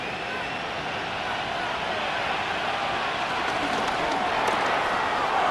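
Stadium crowd noise from the video game Madden NFL 26 during a Cowboys vs. Broncos simulation, a dense, continuous roar that holds steady for the whole stretch with no gaps.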